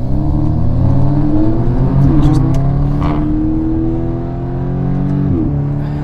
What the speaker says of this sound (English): Just hear that engine.